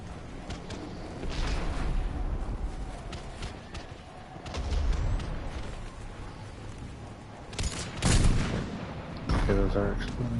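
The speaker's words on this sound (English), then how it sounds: "What are you guys shooting at?" Gunfire and explosions in the Mass Effect 3 video game, scattered shots and booming bursts over a continuous rumbling battle backdrop, moderately loud and sometimes dense.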